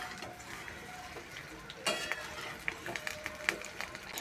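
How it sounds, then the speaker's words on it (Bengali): Raw mango pieces fry in hot oil over a raised gas flame for pickle, a low sizzle broken by irregular clicks and scrapes of stirring, close by with no talking. "এবার গ্যাসের আঁচটা বাড়িয়ে দিয়ে জাল করব, আর নাড়াচাড়া করে ভাজতে থাকব।"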